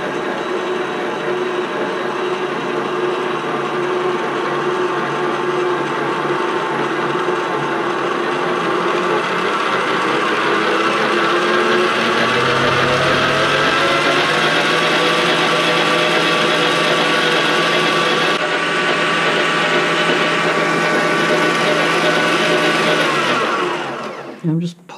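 Electric mixer creaming butter and sugar for a seed cake, a loud steady whirring drone that runs continuously, shifts in pitch midway as the mixture changes, then cuts out at the end.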